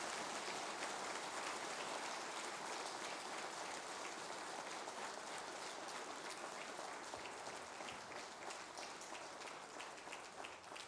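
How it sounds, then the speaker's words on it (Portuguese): Strong, sustained applause from a church congregation during a worship service, dense and steady throughout with no voices over it, easing slightly toward the end. "Demos, amados irmãos, uma forte salva de palmas."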